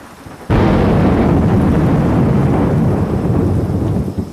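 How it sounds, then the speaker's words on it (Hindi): A sudden, loud crack of thunder breaks into a heavy, continuous roar of rain and rumbling that persists, dense and close, with no voices. "बारिश की हर बूंद के साथ जंगल में डर भी बढ़ रहा था।"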